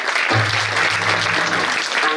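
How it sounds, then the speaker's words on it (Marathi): Applause from an audience at a Marathi kirtan fills the space, a steady dense clatter of clapping that runs loud and continuous for about two seconds. "त्यासाठी सर्वांनी टाळ्या द्या"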